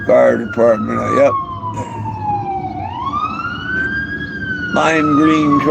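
A fire truck siren wails close by in a long rising and falling sweep, with horn-like blasts at the start and end and a rumbling engine underneath.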